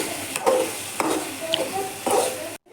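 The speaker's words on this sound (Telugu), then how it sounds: "చూడండి ఇట్లా కలుపుకుంటున్నా." A spoon stirs tomato curry in a pan, making scraping strokes at a steady rhythm of about two per second over a soft, constant sizzle, heard up close.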